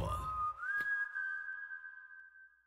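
A single clear whistled tone in a K-pop song glides upward, then holds a long steady note, fairly close and alone, ending with a brief click.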